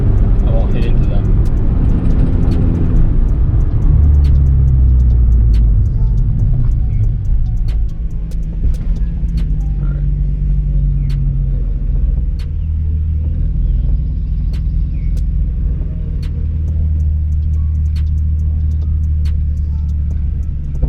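A Nissan 350Z with a manual gearbox starts off on a steep hill, its engine rumbling low and close inside the cabin, the pitch lifting as it pulls away, with people talking throughout.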